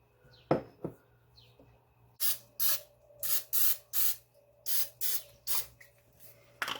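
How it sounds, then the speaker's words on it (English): Cooking spray hisses onto a muffin pan in about nine short, even bursts, close and fairly loud, after a couple of light knocks. "I'm going to go ahead and spray it."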